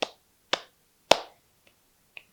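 Sharp isolated hand claps and finger snaps used to count out the number 32, five crisp strikes spaced about half a second apart, the first three loud and the last two softer snaps, in a quiet room.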